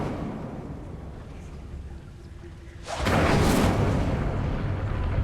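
Incendiary fire spell cast in Hogwarts Legacy, erupting after a quiet, rumbling stretch as a sudden loud whooshing blast that roars and crackles for the remaining seconds.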